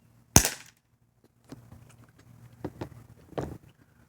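A single sharp, loud shot from a Bear River 4-inch revolver fired at soda cans, followed by quieter handling clicks and scattered knocks.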